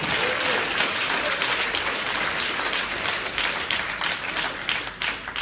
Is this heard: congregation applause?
yes